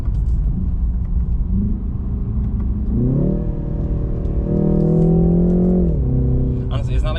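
A 2020 BMW 330i engine in sport mode revs up with a rumbling exhaust note, pitch rising and holding before dropping back, loud and close, with a brief clatter at the end.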